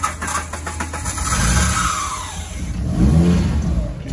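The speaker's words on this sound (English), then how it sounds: "Rev it up, clear it up, clear it up, clear it up." A car engine revs hard in a driveway at a tuning shop, a loud, close mid-pitched roar rising and falling through two surges with no talk over it.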